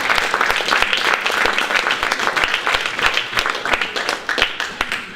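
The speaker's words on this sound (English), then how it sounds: "give them a round of applause, just get your round of applause" An audience applauds at a YESx talk, with steady clapping and sharp individual claps standing out, gradually thinning toward the end.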